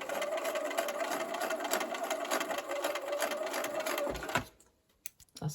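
A sewing machine stitches a quilt block, a steady close mechanical whir with rapid needle rhythm running for about four seconds before stopping, followed by a few faint handling clicks.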